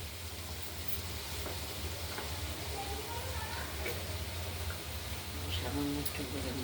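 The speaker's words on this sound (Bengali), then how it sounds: "ঢাকনাটা খুলে আরেকবার নেড়ে চেড়ে দিলাম আমরা।" Thinly sliced pumpkin frying in a wok with mustard seed tempering gives a steady close sizzle and hiss under a low rumble, with faint stirring scrapes now and then.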